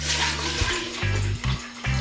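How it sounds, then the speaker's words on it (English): Kava root drink poured into a pitcher, a loud, close, continuous splashing stream with gurgling pulses, no talk. "I'll just pour my drink into a pitcher"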